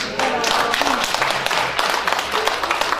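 Scattered clapping from an audience at a lecture on Korea's present and future, only about half the room joining in; dense, steady patter of hands filling the whole span at moderate loudness with no one speaking over it.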